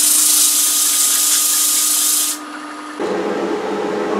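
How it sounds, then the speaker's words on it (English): Sandpaper rubbing against the outside of a spinning wooden box on a lathe, a steady loud hiss that drops out midway and gives way to a lower machine hum of the lathe running on. "I'm going to go ahead and sand the outside"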